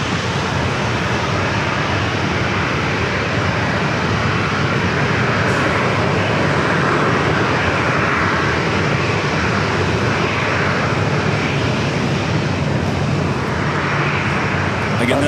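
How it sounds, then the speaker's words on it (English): An Alaska Airlines Boeing 737-900ER jet roars loudly and steadily at an airport, its broad engine noise holding at a near, constant level throughout. "this Alaska flight heading to Portland at flight 1073, it's a 737-900ER"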